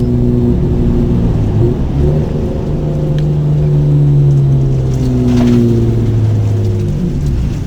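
A Mitsubishi FTO Version R drives a cool-down lap on a track, its engine a loud, steady drone heard from inside the car, with pitch gently rising and falling across the gears.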